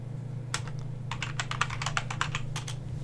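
Someone types quickly on a computer keyboard, with irregular bursts of crisp key clicks over a faint steady hum.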